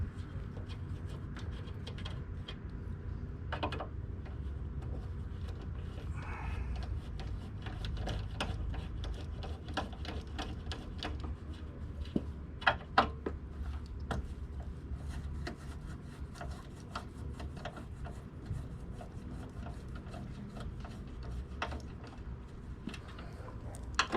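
Torx screws being worked loose from a tow package base plate, with scattered metallic clicks and ratcheting ticks over a low steady rumble, close and fairly quiet, with no speech.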